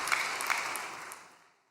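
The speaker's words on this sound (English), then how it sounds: "So let's give her a big round of applause." An audience applauds in a dense wash of clapping that holds briefly and then fades out.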